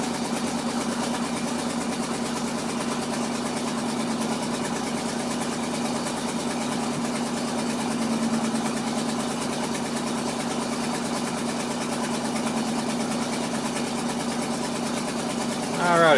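The engine of a Ford F-600 truck holds a steady, fast high idle, with a close, continuous drone that stays constant throughout.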